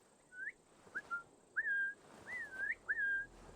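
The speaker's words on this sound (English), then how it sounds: "I should probably not whistle on the mic." A person whistles into a close microphone during a gaming session, a series of short, rising and gliding melodic notes in several quick phrases, clear and near over faint background hiss.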